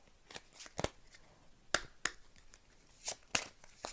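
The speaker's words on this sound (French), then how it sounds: "je retire encore des petites cartes de Mika" Tarot cards are pulled one by one from a deck, giving quiet, crisp flicks and snaps at irregular intervals, close by and unaccompanied by talk.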